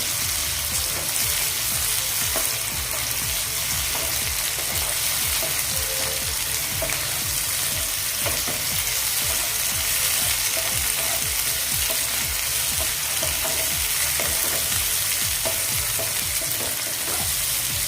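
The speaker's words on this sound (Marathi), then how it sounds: "आता यामध्ये पहिल्यांदा मी टोमॅटो घालून घेते" Finely chopped tomato frying with softened onion in a pan, a loud continuous sizzle with frequent stirring scrapes throughout, close by and without talk.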